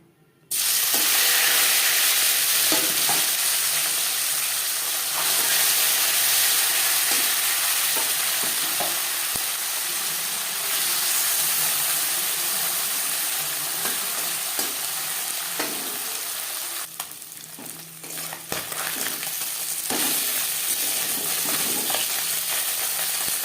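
Puti fish frying in oil in a wok, with a steady close sizzle and crackle throughout, occasional stirring scrapes and clinks, and a brief burst of louder spattering near the end.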